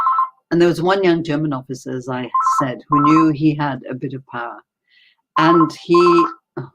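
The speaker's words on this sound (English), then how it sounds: "Sorry, that's my phone." A mobile phone rings in short repeated electronic bursts during a talk at a Holocaust Memorial Day event, surfacing at the start, middle and end under a woman's continuous speech.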